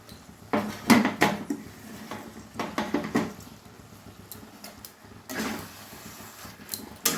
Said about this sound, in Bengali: বাঁধাকপির সঙ্গে খুব ভালোভাবে মিশিয়ে দিলাম